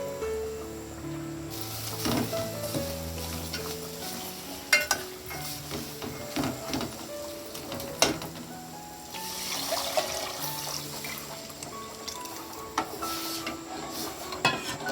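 Tempering sizzles and crackles steadily in a pan for a village-style Kokan crab curry, with occasional stirring clinks and scrapes close by over a continuous frying hiss.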